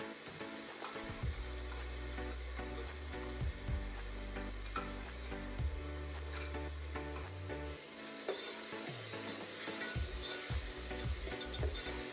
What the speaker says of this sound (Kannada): ಹಸಿ ಸ್ಮೆಲ್ ಹೋಗೋವರೆಗೂ ಫುಲ್ ಫ್ರೈ ಮಾಡ್ಕೊಳ್ಳಿ.